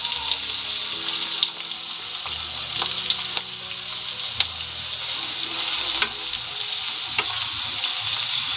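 Chopped onions frying in oil with cardamom and cloves while being stirred, a strong continuous sizzle broken by periodic sharp clinks and scrapes of the spoon against the pan, close up.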